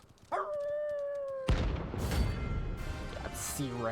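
Dogs howling in the Final Fantasy XVI game, a sustained tonal howl near the start giving way to a loud, noisy burst of dogs and commotion, with further howls rising at the end.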